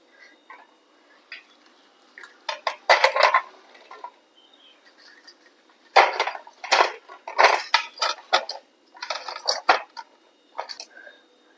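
Potato and egg snacks are shifted onto a serving plate with utensils, producing clustered clinks, scrapes and taps in two busy bursts separated by a quieter pause, close and fairly loud.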